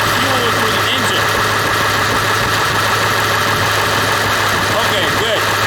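Ford F450 truck with a 7.3L engine idling with a fuel-line leak, a loud steady low hum and clatter running throughout at constant level.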